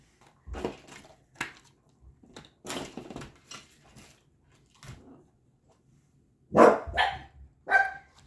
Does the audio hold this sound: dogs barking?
yes